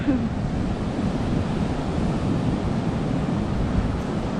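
Sea waves wash steadily onto shoreline rocks on Ko Lanta, a continuous broadband surf roar with wind buffeting the microphone and no talking.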